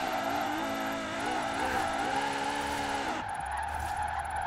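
Porsche 918 drifting in Forza Horizon 4: a steady engine drone with wavering, shifting harmonics as the car slides, then a sharp change in pitch near the end, loud and continuous with no talk.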